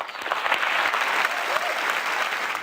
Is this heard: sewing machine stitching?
no